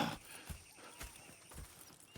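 Horses in the video game Red Dead Redemption 2 give a quiet, rhythmic clip-clop of hooves, faint and fairly distant, with no voices.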